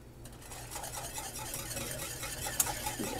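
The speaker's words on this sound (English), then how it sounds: "And just whisk this in good." Cocoa, sugar and flour being whisked into steaming, foamy milk, a soft rapid swishing with light metallic scrapes against the pot, quiet and close, with one brief clink near the end.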